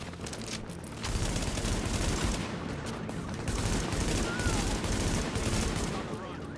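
Sustained gunfire in the video game The Division, a dense unbroken rattle of shots filling the scene at close range, with a voice faintly audible beneath.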